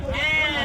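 Short, close bleat from a young ram at the Amingad sheep and goat market in Karnataka, a brief nasal wavering call.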